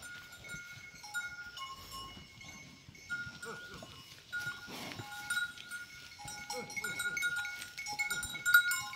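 Goats bleat now and then among farm livestock, faint calls scattered over a soft background with a clanking bell, no talk.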